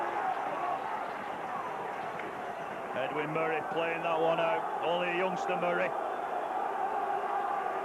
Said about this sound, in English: just listen to the Burnden crowd